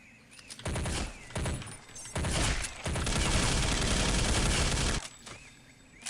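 Automatic gunfire in the video game Counter-Strike Condition Zero, a few short bursts followed by a long sustained volley, loud and close, with faint game sounds around it.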